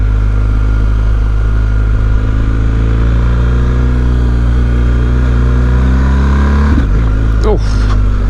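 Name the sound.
BMW R 1250 GS motorcycle riding on the street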